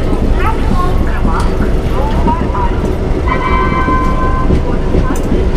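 Teesta Torsa Express pulling into Khagraghat station: a steady loud rumble of the arriving train, with squealing wheel and brake tones and platform noise, people talking nearby.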